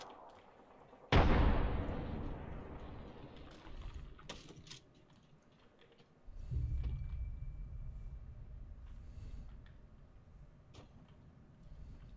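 A frag grenade detonates in the Apex Legends video game as one sudden loud blast that decays over a few seconds, followed by a later, lower rumbling burst and continuing background game noise.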